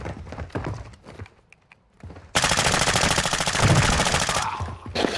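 Gunfire in the Call of Duty DMZ video game: scattered single shots and thumps at first, then a loud sustained burst of rapid automatic fire close by, ending with a few more shots.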